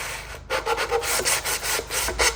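Sandpaper rubbed over wooden glazing bars, a run of about nine close, rasping strokes in a steady back-and-forth rhythm with no talking.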